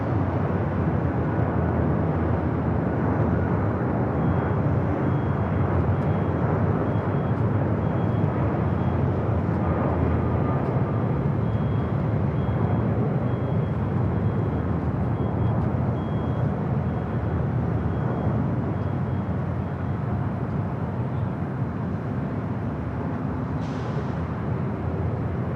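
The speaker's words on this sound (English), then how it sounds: "Let's go to the 767-400 ER." A Boeing 767-400ER airliner at LAX gives a steady, loud jet engine roar with broad rumble that holds evenly throughout, close by and with no talk.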